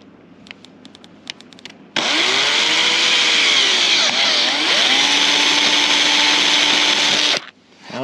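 A loud electric drill whines steadily for several seconds, its pitch dipping briefly as the bit bites into a scrap piece of wood on a countertop, after a few light taps.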